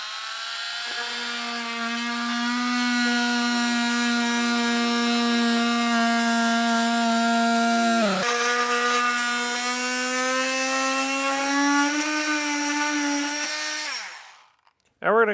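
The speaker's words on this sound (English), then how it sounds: "Take a multi-tool and cut these straight lines out the rest of the way." Oscillating multi-tool cutting straight lines through a Jeep Wrangler skid plate, a loud, steady buzzing whine held close for most of the clip, with a brief dip midway before it stops.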